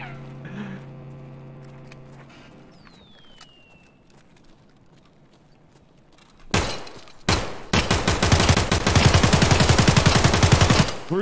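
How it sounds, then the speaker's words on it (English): Full-auto AK rifle fire in the video game Escape from Tarkov, a quiet stretch with faint game ambience giving way to a short burst, then loud, sustained rapid automatic gunfire up close. "It's just a full auto AK."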